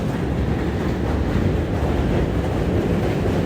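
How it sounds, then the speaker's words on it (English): A train rumbles past close by with a steady, loud, low roar and a faint rhythmic clatter, filling the whole stretch without any speech. "I'm probably going to pause speaking until this train passes"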